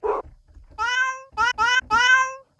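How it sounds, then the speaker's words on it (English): A cat meows several times as an animal sound effect, with a short noisy burst first and then three or four clear, tonal meows close up and fairly loud, with no talking. "Cat."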